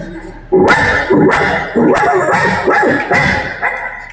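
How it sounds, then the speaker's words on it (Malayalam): A dog barks repeatedly in a quick series of about seven loud, sharp barks, close by, with no other sounds between them. "എന്റെ വീട്ടിലെ നായ വെറുതെ കിടന്ന് കുരയ്ക്കാൻ തുടങ്ങി."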